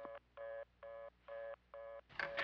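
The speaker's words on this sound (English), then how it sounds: "What you're hearing, sir, is the sound coming from the kitchen phone." An off-the-hook kitchen telephone sounds a steady electronic tone in five evenly spaced bursts, each about a quarter second long, before a louder rustling noise at the end.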